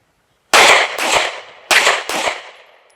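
Gunshots at a shooting range during a timed drill: four sharp, loud reports in two quick pairs, each with a short echoing decay, no talk.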